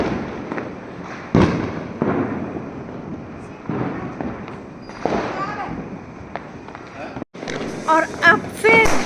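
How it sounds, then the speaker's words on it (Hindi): Diwali firecrackers burst at a home celebration, sharp bangs popping repeatedly at irregular intervals, some close and loud, others farther off, with voices and children's chatter mixed in. "और पटाखे ऐसे फूट रहे हैं"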